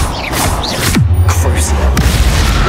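A Confringo spell explosion in the video game Hogwarts Legacy erupts as a loud, deep boom with a sweeping whoosh and a low rumble that lingers, set against dense battle noise.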